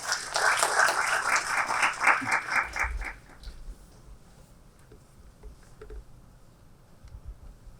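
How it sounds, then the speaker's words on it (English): A conference audience gives a dense, steady round of applause to welcome a speaker for opening remarks, loud for about three seconds before stopping abruptly, leaving a quiet room with faint scattered noises. "Ladies and gentlemen, please welcome him with a big round of applause."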